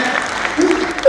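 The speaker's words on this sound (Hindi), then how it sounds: "यार, मजाक पकड़ा, ताली बजा दिया है।" An audience at a Haryanvi comedy poetry stage show gives a short burst of clapping, brief and somewhat distant, with a voice briefly sounding over it.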